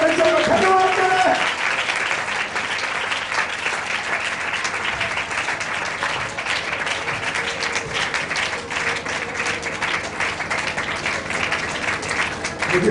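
A church congregation at a Hindi-language sermon claps together in thanks to God, a long, steady roar of loud applause from many hands, with a voice briefly audible at the start.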